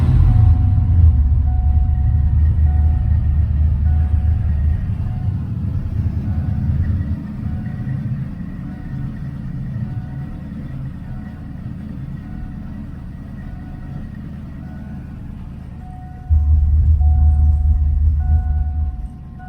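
Ford Fox body car with a swapped engine, run with the belt off, idles steadily at close range; a deep rumbling drone with swells in loudness near the start and end, no speech.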